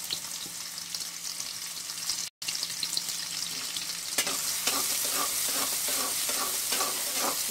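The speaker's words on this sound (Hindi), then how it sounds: "प्याज डाल दिए मैंने," Onions frying in hot oil in a pan over a lowered flame, a steady close sizzle with stirring scrapes, briefly cut to silence and then continuing a little louder.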